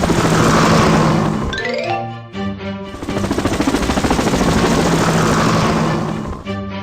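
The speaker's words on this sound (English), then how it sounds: "Helicopter, go!" A cartoon helicopter's rotor thumps in a rapid, steady chop, loud and close, with a rising mechanical whine as it starts up.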